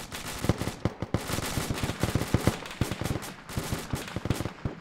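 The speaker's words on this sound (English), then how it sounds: "Spetsnaz below us are shooting now." Spetsnaz soldiers fire rifles below in a realism-focused military video game, a dense, loud barrage of rapid overlapping shots and bursts with no voices.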